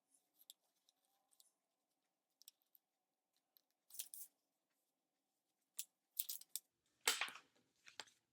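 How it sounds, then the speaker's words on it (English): Scissors trimming the edge of paper while making a paper wallet, a few sparse crisp snips and crunchy cuts close by, with quiet gaps between them and no speech. "So you can see I'm trimming the paper a little bit."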